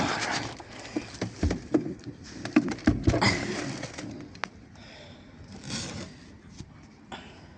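Soft pigeon coos sound close by amid fluttering, shuffling and light tapping, busy at first and then quieter.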